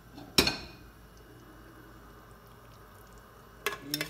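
A steak dropped back into a pressure cooker pot of madeira sauce with mushrooms gives a sharp metallic clank, a quiet simmering hiss, then a second short cluster of clinks near the end.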